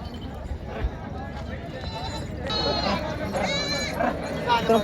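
Goats bleat repeatedly amid a busy crowd at the Borda goat market, several calls rising over a constant murmur of people talking.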